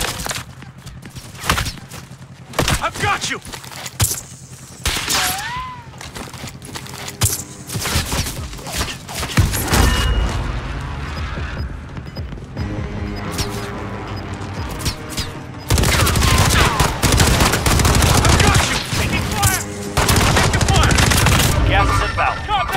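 Heavy automatic gunfire in Call of Duty Warzone crackles in loud, dense bursts, near and continuous with brief lulls, while a player shouts over the shooting.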